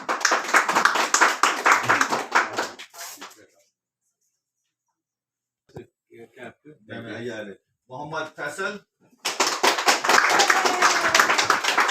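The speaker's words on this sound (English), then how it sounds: "Big round of applause" At a cricket team gathering, a group bursts into brisk clapping, falls silent while a man announces a name, then claps again just as loudly, the two rounds bracketing his short speech.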